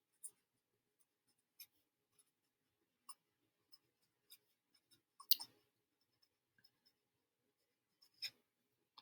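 Pen or pencil writing words on paper, sparse faint scratches and taps spread across several seconds with one slightly louder scribble, very quiet and close.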